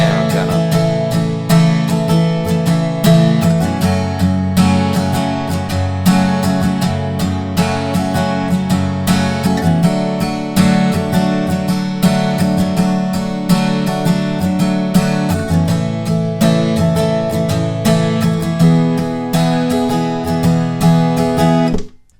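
Acoustic guitar strumming the chorus chords of a song in a steady down-up pattern, loud, close and continuous with no voice.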